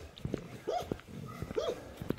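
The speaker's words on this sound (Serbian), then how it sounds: "sad treba proći još te pse." Dogs outdoors on a cold day, met along a walking route, give short yips and whining, rising-and-falling cries at close range, several separate calls spread over a couple of seconds with no talking.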